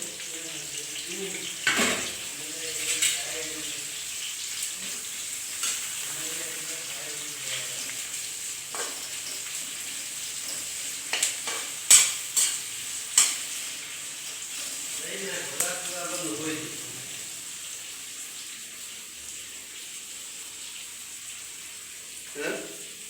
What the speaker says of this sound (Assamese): পিঁয়াজ ঢালিলোঁ